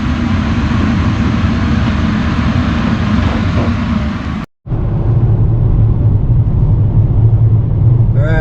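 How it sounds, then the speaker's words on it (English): A car drives home with a loud, steady engine and road rumble heard from inside the cabin, briefly cutting out midway before the drone resumes. "Alright, driving home after a long day of work."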